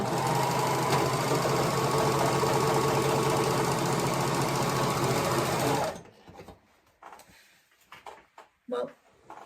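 Serger stitching fabric in a steady, loud, close whirring run that stops abruptly, followed by quiet handling noises and a few soft voice sounds.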